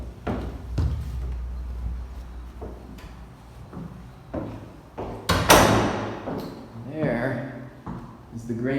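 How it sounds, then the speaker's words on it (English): Old wooden vestibule doors in a historic building are swung shut with a couple of soft thuds and a louder clunk midway, heard close up while someone talks throughout. "close these doors"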